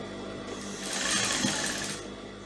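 A sewing machine runs in a steady rapid mechanical chatter while stitching the edges of a fabric sleeve, close and fairly quiet, with no talk.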